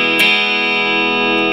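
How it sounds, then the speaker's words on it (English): Electric guitar through a P90-style pickup, a single sustained, slightly distorted chord ringing out loudly and evenly for about a second and a half after a sharp pick attack. "it sounds like a P90 to me."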